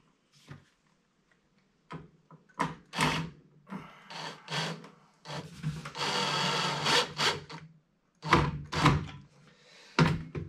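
An electric screwdriver drives screws into a wooden beehive box, giving short whirring bursts and a longer sustained buzz, mixed with wooden knocks and handling thuds at close range, separated by brief quiet gaps.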